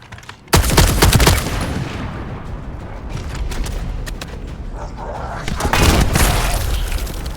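A launcher fires and explodes in The First Descendant: a sudden loud boom opens a rattling stretch of repeated blasts and impacts, then a second heavy burst of explosions swells near the end.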